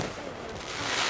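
Fourth of July fireworks in Watervliet burst in a dense, continuous crackling roar, loud and close, lasting about a second.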